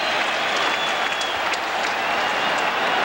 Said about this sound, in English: Shea Stadium is starting to rock.